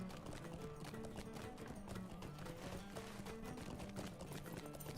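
A horse mount galloping in the Lord of the Rings Online game at minus 60 speed: steady, rapid hoofbeats run continuously over a dense layer of game music and ambience.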